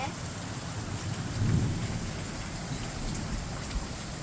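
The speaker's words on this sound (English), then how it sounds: "Jack, there's a hail on the bale" Hail pours down steadily during a hailstorm, a dense, continuous hiss and patter of stones striking surfaces nearby, with a low rumble swelling briefly partway through.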